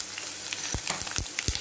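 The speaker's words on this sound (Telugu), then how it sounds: "ఎల్లిమిరపకాయ ఆవాలు జీలకర్ర కొంచెం నువ్వుపప్పు పోపు" Garlic, dried red chilli, mustard seeds, cumin and a little sesame crackle in hot oil as a tempering for a tomato curry, a steady close sizzle with several sharp pops and spatters.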